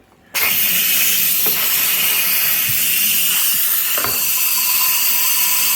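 A loud, steady hiss of steam bursts on suddenly from an Instant Pot pressure cooker's steam release while making butternut squash soup, rushing on, with a few faint clicks and knocks beneath it.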